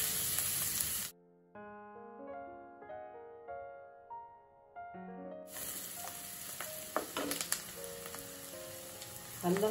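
Onions sizzle and fry in a pan while pav bhaji is being made, a soft hissing crackle that drops out briefly and then returns louder with clattering stirs, heard without talk.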